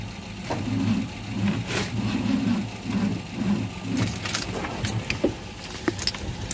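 A truck engine is cranked in rhythmic pulses, then catches and revs briefly with sharp rattles and clanks, fairly close and loud, with no talk.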